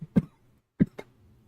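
A person coughs twice, close and loud, with a brief throat-clearing burst right after the second cough and quiet in between.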